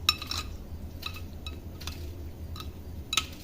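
A spoon stirring chutney with chaat masala and chilli powder in a bowl, producing sharp metallic clinks and taps at irregular intervals over a quiet low background hum.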